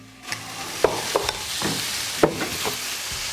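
Olive oil sizzles in a pan while it is stirred. A soft frying hiss runs underneath several sharp scrapes and knocks of the utensil against the pan, all close by.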